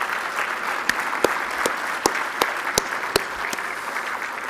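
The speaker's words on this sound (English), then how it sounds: "let's give them a round of applause" Audience applause at a peace and dialogue awards ceremony, steady clapping from a moderate crowd with several sharp, distinct louder claps standing out at regular intervals.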